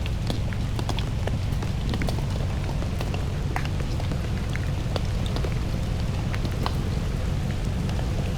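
Steady rain pours down, with scattered drops pattering and ticking sharply on a nearby surface throughout.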